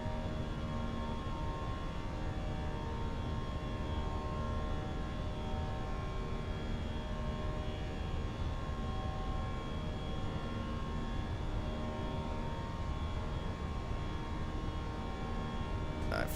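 Airbus A320 jet engines at climb power in a flight simulator, a steady droning roar with a constant whine on top, unchanging and continuous throughout with no talk.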